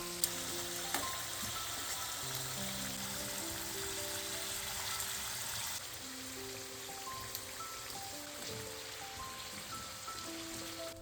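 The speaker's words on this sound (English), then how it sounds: "place your sweet potatoes in the pan, and we're going to be cooking these for around 15 minutes" Sweet potato pieces fry in oil in a pan with a steady, close crackling sizzle that runs throughout, broken by small pops and spatters, with no voices.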